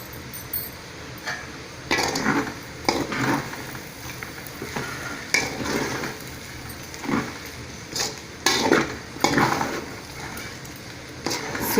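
Vegetable noodles being tossed and stirred in a hot pan, soft scraping and clinking strokes in an irregular rhythm with a faint sizzle between them, close and fairly quiet, with no talking.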